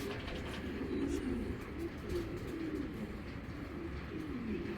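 A large white female foreign-bloodline racing pigeon coos nearby in repeated soft throaty rolling phrases over a low steady background hum.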